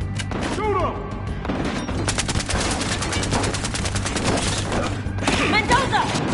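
Rapid bursts of automatic gunfire ring out in the video game Battlefield Hardline, dense and continuous, with a few sharper shots cutting through. Game voices and effects run beneath.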